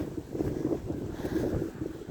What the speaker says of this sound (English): it gets pretty windy down here